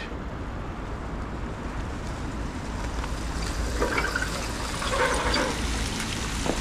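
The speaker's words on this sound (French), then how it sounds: "Le jet d'eau allumé. Très joli. Jet d'eau en marche." Water fountain running at night in Sidi Bel Abbès, a steady close rush and splash of falling water that swells slightly toward the end, with no talking.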